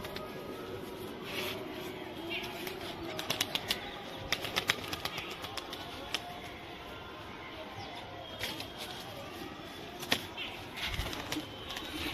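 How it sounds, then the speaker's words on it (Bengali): Racing pigeons being released before a tournament take off in a flurry of sharp wing claps and flutters, several quick bursts over a faint background, fairly close, with a few soft noises between. "দেখো দেখো এই পায়রাগুলো ছাড়ছি আগে করে"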